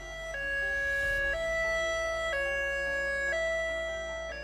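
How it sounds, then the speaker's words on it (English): A high-low evacuation siren alternates steadily between two pitched tones in an even rhythm, loud and sustained with no voices. "staff to actually be out driving in the areas with a high-low siren"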